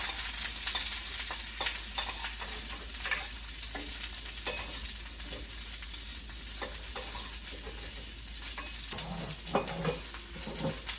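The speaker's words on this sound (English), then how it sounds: "Keep the flame in medium to low flame, and saute it." Steady crackling sizzle of onions sauteing in a pan over medium-low flame, continuous and close, with occasional faint stirring scrapes and no talking.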